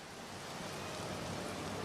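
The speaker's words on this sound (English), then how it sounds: "Too bad it's raining." Steady rain in the video game Elder Scrolls Online, an even, continuous hiss that holds at moderate level throughout with no voices.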